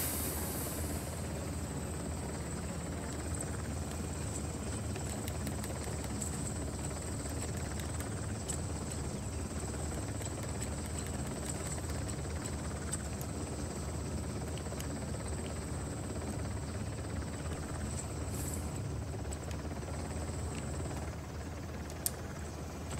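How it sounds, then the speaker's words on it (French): Helicopter in the video game Uncharted: The Lost Legacy, a continuous faint whirring rotor drone held steady in the background throughout, with no talking over it. "L'hélico est juste là."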